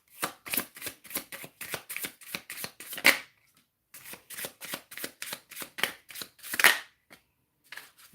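Tarot cards riffled and shuffled in quick, crisp bursts of rapid flutters, two long runs separated by a short pause, close and fairly loud with no talking.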